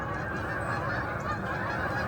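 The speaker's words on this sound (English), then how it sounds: "This is the music of geese at the park." Flock of geese at a park honking in a dense, continuous chorus of overlapping calls, loud and close throughout.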